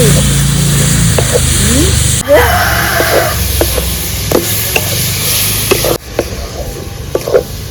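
A utensil stirs grated coconut and jaggery in a wok for kadam puli pithe filling, giving repeated close scraping taps over a soft sizzle, with a few abrupt shifts in the background noise.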